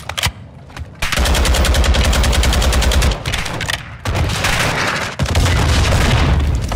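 Heavy automatic gunfire in Warzone 2.0 DMZ, loud, rapid and close, in long sustained bursts separated by brief gaps, with booming low thuds underneath.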